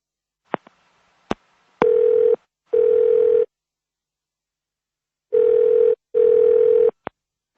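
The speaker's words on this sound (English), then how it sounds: "Now listen to the telephone call" Automated phone line for a cab company: a few short clicks and ticks, then four long steady call tones in two pairs, each lasting under a second, loud and clear with no talking.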